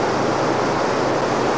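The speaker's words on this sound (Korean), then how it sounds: "이 물소리가 지금 계곡에 막 퍼지고 있어요." A stream flows along a mountain valley on the way from Sofia to Rila Monastery in Bulgaria, a steady close broadband rush of water with no break, heard alone.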